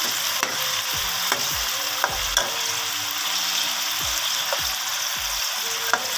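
Green chillies sizzle in a pan over medium heat, a continuous frying hiss broken by repeated sharp clinks and scrapes of a spoon stirring against the metal, close and fairly quiet.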